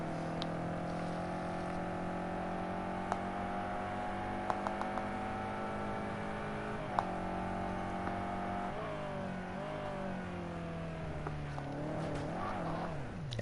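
A BMW GT3 race car in a sim racing game at Zolder, its engine droning steadily at high revs, then shifting and revving through a chicane with a few sharp clicks, heard alone and close.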